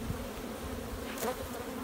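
Honey bees on a mating nuc frame: a close, continuous low buzzing hum, steady and moderately loud, with a brief brighter flutter partway through.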